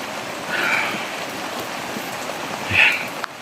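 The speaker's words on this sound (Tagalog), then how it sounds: "Na palagi kumukulo yung tubig." Water bubbles and churns continuously at a rolling boil in a well, a dense hiss with a couple of louder surges of bubbling.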